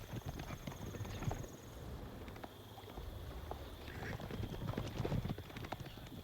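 Horse hooves clip-clop in the Age of Empires 4 video game during the Rus campaign's Battle of Kulikovo, irregular muffled steps over a busy, windy battlefield ambience with faint background noise.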